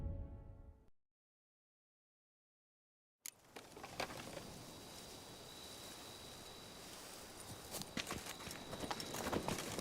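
Hoofbeats of the horse Roach galloping in The Witcher 3, a steady clip-clop rhythm running close and loud after a brief silent gap, with a soft rustle underneath.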